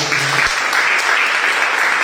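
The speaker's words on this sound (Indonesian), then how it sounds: "Berikan tepuk tangan dulu" Congregation applause during a sermon at GKSI Glory To Glories church in Batam: a steady wash of many hands clapping together, with a brief voice at the very start.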